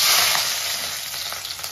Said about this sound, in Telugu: కట్ చేసిన వెజిటేబుల్స్ అన్నీ వేసుకుంటే ఫ్రై అయిపోతాయి.